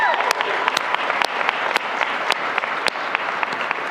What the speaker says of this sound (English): Can we have an applause for Nate?